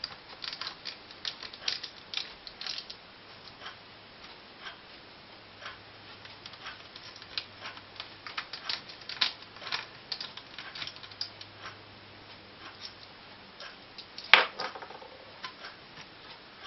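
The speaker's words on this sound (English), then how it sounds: "Once you unscrew the screws" Small screws are worked loose from the LCD screen mount of a Lenovo Ideapad S12 laptop, giving faint, close ticking and scratching clicks in irregular runs, with one sharper click near the end.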